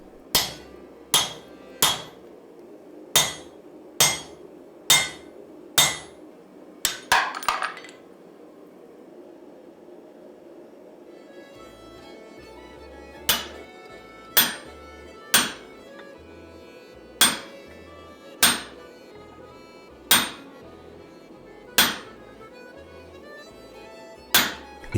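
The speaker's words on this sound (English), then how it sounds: "it's time to start shaping and enlarging the eye, and we do this by using axe eye drifts" Sharp, ringing hammer blows strike an axe eye drift while shaping and enlarging the eye of a forge-welded laminated steel axe, a steady series of near, loud metallic hits with brief pauses between groups.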